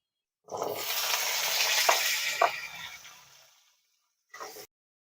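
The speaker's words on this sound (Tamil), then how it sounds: "இந்த எண்ணெயிலே வந்து சின்ன வெங்காயம் போட்டு நம்ம வதக்கிடலாம்" Shallots drop into hot oil for a village-style mutton curry, setting off a loud, close sizzle that fades over a few seconds, then a brief second burst of frying near the end.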